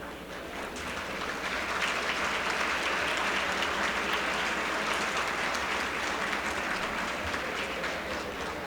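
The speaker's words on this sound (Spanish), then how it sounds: "Quiero que la recibamos con un fuerte aplauso." An audience at a lecture gives a sustained round of applause, a dense, even clatter of many hands that holds steady for several seconds before easing slightly at the end.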